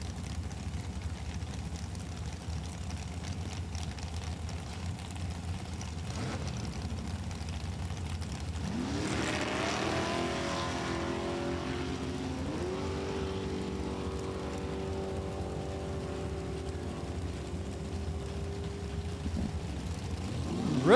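Super Comp drag race cars, including a 2017 McIlvain with Chevrolet power, roar down the strip at a raceway, faint and distant at first before a loud engine pass swells midway and holds a steady droning note.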